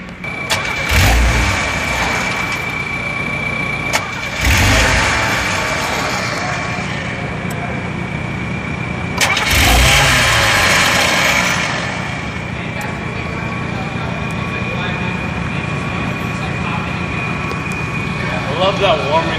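A Pontiac Fiero engine that won't start or idle properly revs in three loud bursts, then drops back to a steady, slightly uneven idle as the throttle is released, with people talking nearby.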